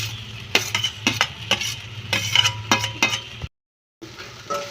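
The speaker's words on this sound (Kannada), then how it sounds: "ಈಗ ಫ್ರೈ ಮಾಡಿದ ಬೆಂಡೆಕಾಯನ್ನು ಹಾಕಬೇಕು." Fried okra tipped into a pan with sambar masala for North Karnataka-style bendekayi palya, followed by steady sizzling and repeated clinks of a spoon stirring against the pan, then a brief silence before the stirring resumes.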